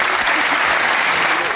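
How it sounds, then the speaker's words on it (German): A studio audience on the German sports TV show das aktuelle Sportstudio claps loudly and steadily, a dense wash of applause that holds throughout without pause. "Hier vielleicht der Kollege von Darmstadt 98 mit einem kleinen Applaus"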